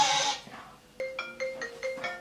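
A phone ringtone plays in short, repeated tonal bursts, about five rings in quick succession at moderate volume, with a brief noisy rustle at the start and no talk.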